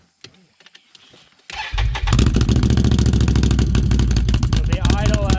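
A 2020 Can-Am 800 XMR ATV with RJWC Mud Series dual exhaust fires up after a near-silent moment and settles into a loud, steady, throaty idle close by.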